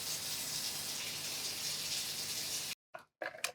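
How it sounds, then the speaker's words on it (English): Water pours into a soap-making mixture as a steady close gush that runs on for a few seconds, then cuts off abruptly and is followed by a few brief trickles. "Added some water into that."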